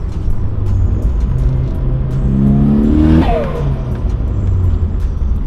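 A tuned Mitsubishi Lancer Evo IX making about 380 wheel horsepower and running lean: a loud, close engine rumble swells into one hard rev with a rising tone, then drops back to a rough steady idle.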